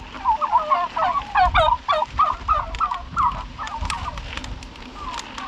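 Ducks swimming in huge rain puddles outdoors call in a rapid run of throaty, gabbling quacks, loud and close at first, then trailing into softer scattered calls.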